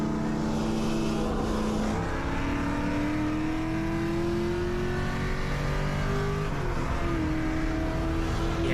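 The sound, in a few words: Mustang racing a Shelby GT250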